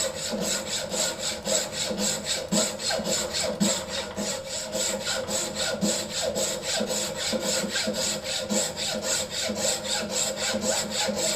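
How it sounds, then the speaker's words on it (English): Hand turning saw cutting through a wooden board for bent lamination clock work, a close, loud rasping in a steady back-and-forth rhythm of quick strokes. "As always with a turning saw,"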